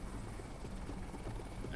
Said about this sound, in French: Alors, l'hélico, il est dangereux.